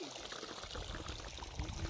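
Irrigation water running through a farm field, a faint, steady pouring and trickling with low rumbling flow and a soft murmur of background voices.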